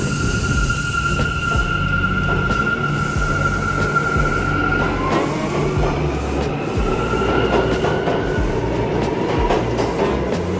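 A New York City subway train rumbles loudly and steadily along the tracks, with rhythmic wheel clatter and a thin metallic squeal rising and falling.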